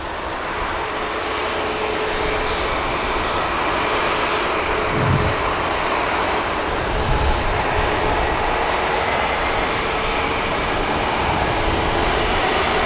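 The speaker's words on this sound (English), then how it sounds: "Egypt entering the active departure runway 23 left for today." An Egyptair airliner entering departure runway 23 left at Manchester Airport, its engines giving a steady, loud, broadband roar that holds throughout, with no talk.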